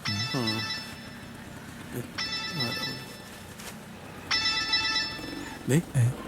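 A telephone rings in a Malayalam movie scene, three bursts of a bright electronic ring separated by pauses, with voices speaking and other scene sounds in between.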